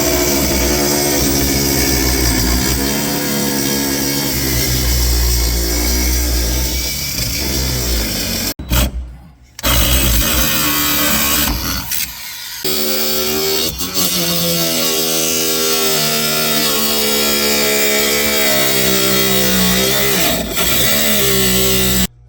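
A power tool cuts through an old Kenworth truck foot pedal, a loud, harsh, continuous grinding whine that breaks off briefly twice and then carries on steadily close to the microphone.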